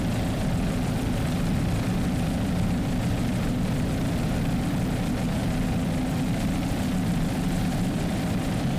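Continuous deep engine drone with a buzzing roar, steady and unbroken, from racing powerboat engines running at a distance during an APBA world championship race start in Key West.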